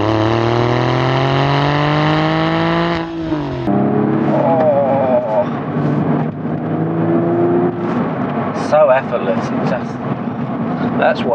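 A Porsche 996 Carrera 4S engine hums and revs steadily while driving, its pitch rising and shifting through gears, loud and close throughout.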